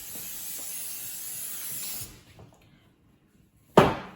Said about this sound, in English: Alila, you're gonna spray the cupcake pan like over it.